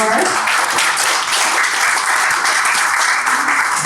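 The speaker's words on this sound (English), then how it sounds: "please join me in a round of applause for" Steady audience applause for a team of volunteers at a poetry celebration event, dense and continuous throughout, fairly loud and close with no break.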